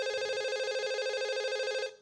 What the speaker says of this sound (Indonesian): Wah langsung masuk lagi telepon kedua nih